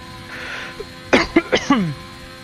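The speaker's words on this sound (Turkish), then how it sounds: "Bir yandan öksürüğüm için kusura bakmayın." A man's short series of about four sharp, close coughs in quick succession, following a faint throat noise.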